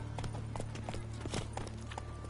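Horse hooves clip-clopping quickly in The Witcher 3, a brisk run of hoof beats over a low steady rumble, quiet and brief.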